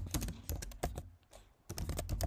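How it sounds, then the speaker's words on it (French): Rapid keystrokes on a computer keyboard come in quick, uneven clusters, pause briefly partway through, then resume in a fast, close burst of clicks. "ce que je vous invite à faire, c'est directement cliquer sur votre clavier"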